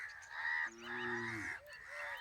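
Geese chasing a hunting dog give several loud, close honking calls in quick succession, with one longer drawn-out honk in the middle and a shorter call near the end.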